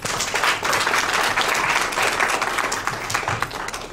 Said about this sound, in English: one more big round of applause for Dr. Mrs.